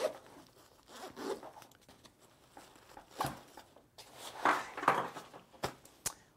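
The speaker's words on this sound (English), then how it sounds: "That zips up." A zipper on a Lowepro Photo Sport 30L AW backpack rasps shut in several quick pulls, close and fairly quiet, with rustling between strokes and no talking.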